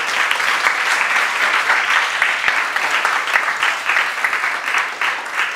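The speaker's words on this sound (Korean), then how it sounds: "박수 한번 크게 쳐주실래요?" Audience in a lecture hall at a youth biology camp applauding loudly and steadily for several seconds, a dense continuous clatter of many hands with no voices over it.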